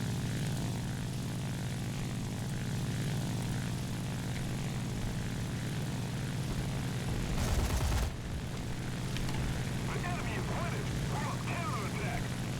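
A La-9 propeller fighter in the War Thunder flight game drones steadily through a stall climb, its engine roar continuous and loud from start to finish, with a brief louder burst midway and a voice talking over it.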